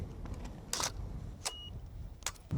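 Camera shutter released with the mirror locked up, out in Death Valley: a few faint, sharp mechanical clicks spaced about a second apart over quiet outdoor background.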